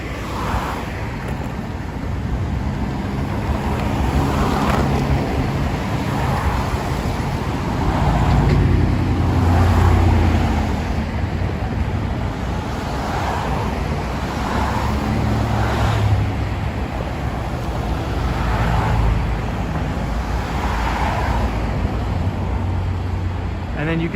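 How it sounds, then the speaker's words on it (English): Steady road traffic on the Brooklyn Bridge on-ramp in New York City at night, a continuous wash of passing cars and buses with swelling whooshes every few seconds, loud and close, with wind noise over it. "So this is the on-ramp to the Brooklyn Bridge."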